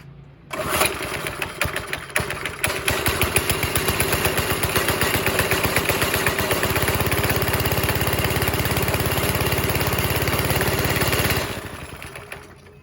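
A 5.5 HP Briggs and Stratton go kart engine running steadily and loud, with a throttle blip near the start, then a sustained even drone before it fades out near the end.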